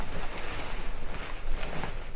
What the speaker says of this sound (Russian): Ветер, кстати, южный.